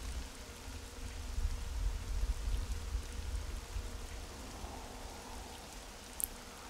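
Steady rainfall in a Devil May Cry 3 video game scene: a continuous, soft hiss of falling rain with a low rumble underneath, constant and fairly faint, with no voices.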